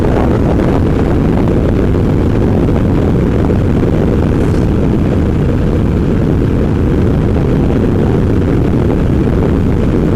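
Royal Alloy GT125 scooter fitted with Dr. Pulley sliders on a road test, a continuous dense engine drone mixed with heavy wind rush, steady and loud for the whole stretch with no talking.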